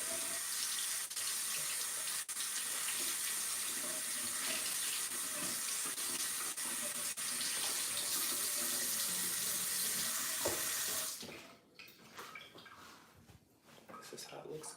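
Steady rush of tap water running over a makeup sponge as soap is rinsed out of it, close and continuous for most of the stretch, then cutting off near the end to leave quieter handling sounds.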